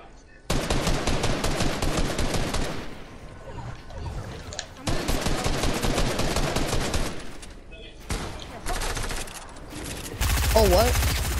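Rapid bursts of automatic gunfire in Fortnite, loud and dense, come in several long volleys separated by short gaps, with a final burst joined by other game effects.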